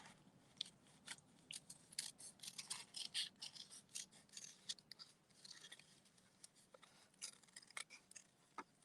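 Small scissors fussy cutting paper for a stamped card, quiet close-up snips and crisp slicing strokes coming in uneven bursts with brief pauses, faint overall.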